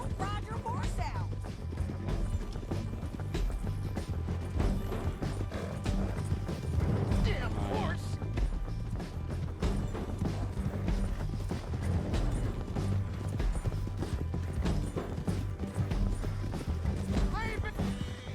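Horse hooves clip-clop in Red Dead Redemption 2, a steady rhythmic trot with creaking tack, heard under game voices talking throughout.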